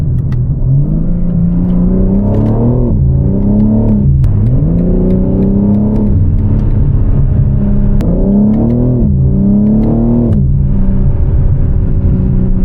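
Loud, close car engine revving up repeatedly in rising surges, with deep exhaust burbles and crackles between each pull.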